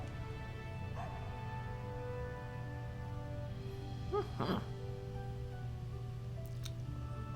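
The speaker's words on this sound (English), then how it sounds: "Of course, Buddy barks at her" A dog barks a couple of times in the video game The Dog Island, short yips over a steady droning game music bed, with brief chirpy effects later.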